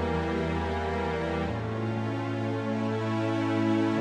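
Layered string tracks from a Majora's Mask metal medley play on their own: a sustained, thick, harmonically rich chord bed that shifts to a new chord partway through, steady and fairly loud throughout.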